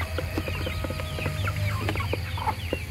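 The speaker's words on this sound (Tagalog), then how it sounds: "native na manok." Native chickens on a farm clucking close by, a busy run of short repeated clucks from several birds over a low steady background hum.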